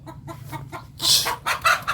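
Chickens cluck in a rapid, close series of short calls, rising to louder, harsher squawks partway through, with no talking over them.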